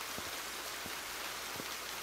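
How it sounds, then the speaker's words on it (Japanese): Steady rain falls in a Japanese horror video game set around a bathhouse, a soft continuous hiss of drops with a few faint low thumps underneath, no voices. "また、雨が降ってるけど、"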